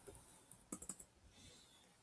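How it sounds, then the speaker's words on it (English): A few quiet keyboard key clicks in a short burst, faint against a soft background hiss. "And I start typing."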